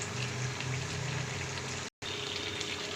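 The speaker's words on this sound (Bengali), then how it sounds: "এগুলো দেওয়ার পর আরেকটু আমি ফুটিয়ে নেব, চাপা দিয়ে দেবো।" A rui fish curry with potato, cauliflower, beans and drumstick simmers in a pot, making a steady low bubbling boil that cuts out for a moment near the end.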